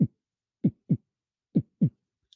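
A dragon's heartbeat as a sound effect in a fantasy tabletop campaign: five deep, thudding beats in paired rhythm, loud and close, with silence between.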